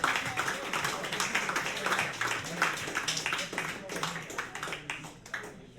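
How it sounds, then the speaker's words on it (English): Small audience clapping together in a steady, moderately loud patter that carries on without a break, with voices mixed in underneath. "give yourselves a big round of applause"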